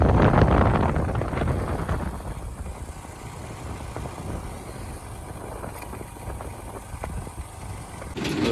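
A motorbike engine drones steadily while riding along a rural road past fields, heavily buffeted by wind rushing over the microphone, with a louder gust at the start and again near the end.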